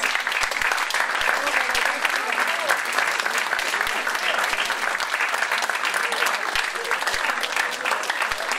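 A crowd at a business training event gives standing leaders a round of applause, a loud, sustained clatter of many hands with some voices mixed in.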